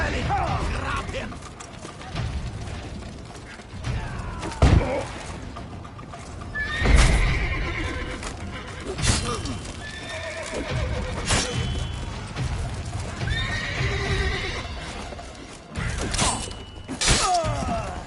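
Horses whinny and neigh repeatedly amid clattering hooves, thuds and scuffling, with voices talking underneath.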